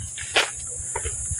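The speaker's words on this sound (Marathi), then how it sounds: "तुम्हाला रातकिड्यांचा आवाज येत असेल बघा" Faint, steady high-pitched cricket trilling fills a quiet outdoor night beside Railway Lake in Igatpuri, with a brief louder rustle early on.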